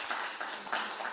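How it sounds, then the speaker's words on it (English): Audience applause after a talk at a virtual writing workshop: a brief, steady wash of many hands clapping at moderate loudness. "another big round of applause"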